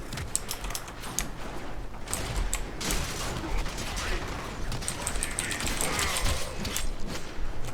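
Rapid gunfire bursts from the video game Warframe crackle in quick clusters, mixed with mechanical clatter and sharp impacts, loud and continuous over background game noise.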